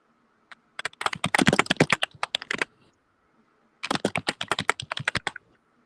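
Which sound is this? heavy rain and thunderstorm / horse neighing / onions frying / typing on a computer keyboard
typing on a computer keyboard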